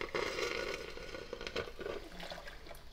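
Water poured into a coffee maker's reservoir, a close, steady splashing pour lasting a few seconds with no talk over it.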